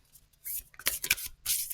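A Moonology oracle card deck being shuffled by hand, two or three short riffling bursts of papery flutter, close and fairly quiet.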